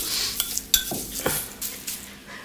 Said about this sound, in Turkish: Onu ekliyorum ve karıştırıyorum.